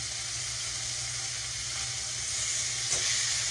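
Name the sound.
beef for stroganoff sizzling in pan on high heat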